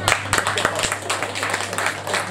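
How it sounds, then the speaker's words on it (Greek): An audience applauds at a sports tournament held in honour of a former player, with a brief burst of dense clapping close by under a voice speaking over it. "Ένα χειροκρότημα."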